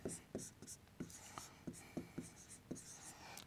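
Marker or chalk writing a statement on a board during a structural analysis lecture on suspension bridges: a run of short, sharp scratchy strokes in an uneven rhythm, close and fairly quiet.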